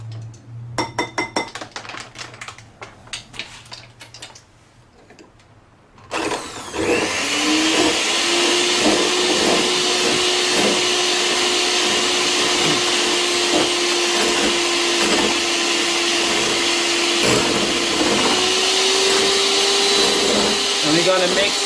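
An electric hand mixer whips a chocolate mousse mixture with added sugar, starting abruptly after a quieter stretch of clinks and handling, then running as a loud, steady whirring drone for about fifteen seconds.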